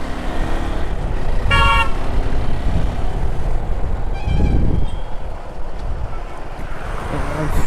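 Heavy two-way road traffic in summer heat, with continuous engine and wind roar, one horn toot early and another around the middle, close and loud.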